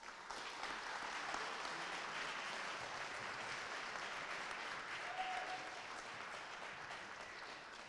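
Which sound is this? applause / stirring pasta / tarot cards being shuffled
applause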